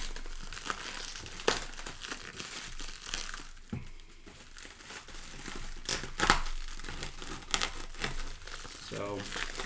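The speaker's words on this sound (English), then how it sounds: "This black plastic wrap can be quite loud." Black plastic wrapper crinkling and tearing as it is pulled off a Prusa Mini 3D printer box, loud close rustling with sharp crackles throughout while someone talks.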